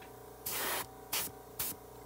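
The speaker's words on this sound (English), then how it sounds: "so now I'll spray it back on the end with the doors open" An airbrush sprays paint while weathering a Bachmann On30 side dump car, sounding three distinct hissing bursts close by: one longer blast, then two short ones, with a faint hum between them.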